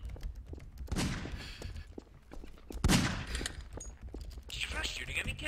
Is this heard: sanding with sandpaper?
no